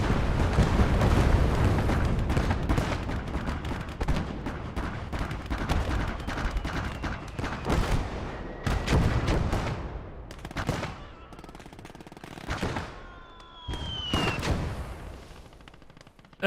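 Dense gunfire and explosions in a Battle of Stalingrad war game, loud rapid bursts and booms piling over one another, thinning out later with a few whistling shells and scattered shots.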